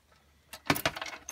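Car keys and key fobs jangle close by in a short burst of metallic clinks after a quiet moment.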